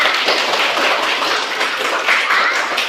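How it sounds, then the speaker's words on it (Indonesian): Schoolchildren in a classroom applaud together, a continuous, loud wash of clapping from many hands that carries evenly for about three seconds. "Ayo kita berikan dulu tepuk tangan buat kita."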